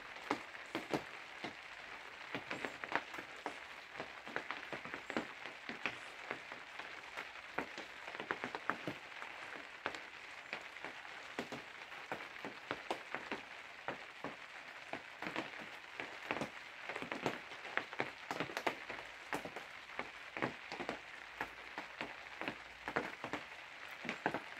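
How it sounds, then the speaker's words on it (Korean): Steady rain falls and patters on surfaces outdoors, a dense crackle of drops throughout, fairly quiet and with no voices. "비도 내리고"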